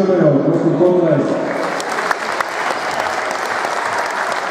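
Sustained applause from a crowd welcoming the women's basketball teams of MBK Ružomberok and Flying Foxes SVS Post Schwechat at a pre-game ceremony, steady and loud throughout, with a voice on the announcer's microphone at the start.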